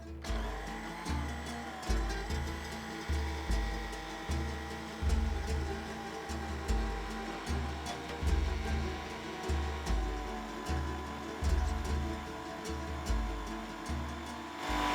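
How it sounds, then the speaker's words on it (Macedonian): An electric hand mixer whirs steadily as it beats eggs with vanilla sugar for an orange cake batter, its motor tone pulsing in a regular rhythm as the beaters turn through the mixture. "сега ќе го пуштиме да се измати како и вообичаено, нели со миксер кога матиме."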